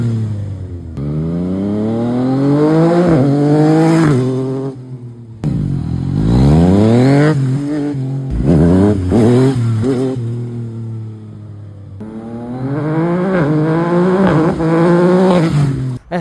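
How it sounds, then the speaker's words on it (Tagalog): A Yamaha MT-09 motorcycle with a remapped engine in A mode revs hard in three long pulls, the pitch sweeping up and dropping back each time with brief pauses between, loud and close with no talking. "Kita nyo yung motor, no? Ang Yamaha MT-09 ni Boss Kyle."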